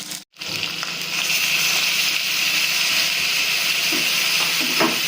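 Ground spice paste hitting hot oil in a pan of fried potatoes, a loud continuous hiss and sizzle after a brief silent gap at the start, with faint scraping near the end.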